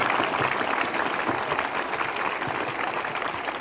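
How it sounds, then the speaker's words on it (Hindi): A church congregation applauding during a live morning prayer service, a steady, busy wash of clapping that carries evenly at moderate volume from start to finish. "धन्यवाद तालियों के साथ सच्चे मन से"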